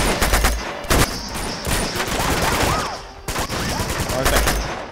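Rapid gunfire from enemies being shot in the video game Uncharted 2, sharp bursts and volleys repeating across the clip over a busy game soundscape, loud and close.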